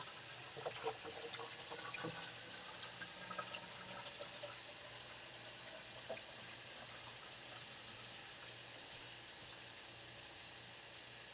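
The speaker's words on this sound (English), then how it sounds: "And then I'm going to pour some deionized distilled water into the cleaning bucket." Deionized distilled water poured into a cleaning bucket, a faint, steady trickle with a few splashes near the start, quiet and continuous throughout.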